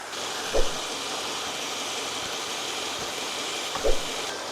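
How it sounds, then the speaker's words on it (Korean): A Mercedes-Benz S-Class engine drones steadily low with constant vibration, body resonance and a broad hiss, interrupted twice by soft low bumps. "여기에 엔진의 진동, 차체의 진동, 그 다음에 공명음."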